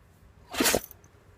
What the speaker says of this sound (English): you're going to sneeze right in my face